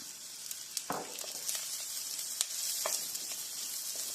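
Garlic, ginger and green chili stirred and sizzling in a hot pan, a steady bright hiss of frying with a few scraping clicks of the spoon, close and moderately loud, no voices.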